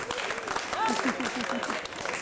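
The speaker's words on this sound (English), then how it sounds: "So give the person a big round of applause." Applause from an audience at a live event, a steady broadband patter of clapping with talk and voices mixed over it throughout.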